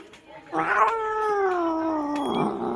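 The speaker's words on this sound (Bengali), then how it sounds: "গাইস দেখো বিড়াল লড়াই করছে, দেখো গাইস কেমন করে ঝগড়া করছে বিড়াল।" Cats fight outdoors in a village, one letting out a long, loud, drawn-out yowling caterwaul that wavers and fades near the end.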